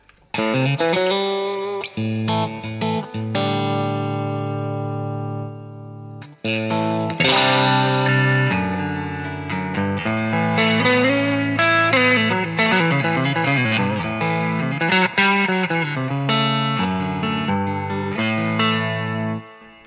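Electric guitar through a tube-style overdrive pedal plays sustained chords and melodic lines, gritty overdrive, one short break early on, thick and saturated throughout.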